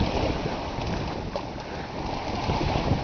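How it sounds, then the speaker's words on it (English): A reefed-main, genoa-rigged sailboat under wind-vane steering makes about 4.5 knots on an open-ocean passage between the Marquesas and Rangiroa, with a steady close rush of water along the hull and wind buffeting throughout. "The boat's just kind of sliding along here."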